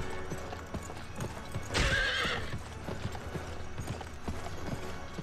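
A horse's hooves in a video game clip-clop in a steady galloping rhythm, broken by a loud, shrill neigh partway through.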